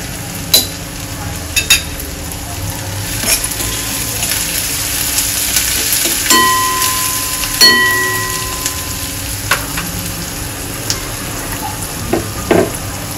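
Chopped onion frying and being stirred in a pan for a traditional Kokani jackfruit bhaji, with a steady loud sizzle and occasional scraping knocks of the spoon against the pan, close and continuous.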